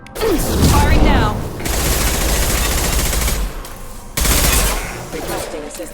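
Sustained rapid automatic weapon fire from Mass Effect 2, a loud dense burst lasting several seconds, with a brief pause before another burst resumes; voice chatter is mixed in.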